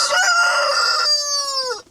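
A single loud rooster crow, close by, with a long drawn-out harmonic call that tapers off at the end. No talking.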